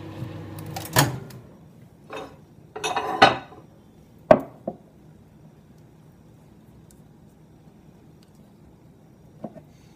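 Old rubber lures being stirred as they melt in a pot make sharp metallic clanks and scrapes in scattered bursts, with quiet gaps between them.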